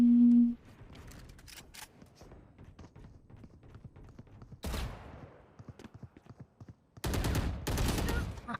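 Gunfire in VALORANT bursts out in loud rapid volleys, one around the middle and a longer spray near the end, over quieter rapid footsteps; a brief tone opens the clip.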